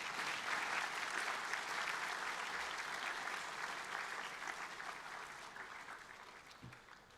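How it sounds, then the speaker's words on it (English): Boys at a school assembly applaud the soccer team in a thick, even roar of clapping that gradually fades over several seconds. "Can we give these boys a round of applause?"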